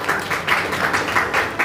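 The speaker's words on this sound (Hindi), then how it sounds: "जोरदार ताली होनी चाहिए।" Audience at a school prize distribution ceremony claps in quick, evenly spaced bursts, a rhythmic group applause heard up close with no talking over it.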